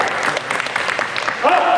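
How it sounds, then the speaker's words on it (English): Brief burst of clapping from players and spectators at a youth basketball clinic, fairly close and steady, with voices talking over it near the end. "Clap it up for these guys"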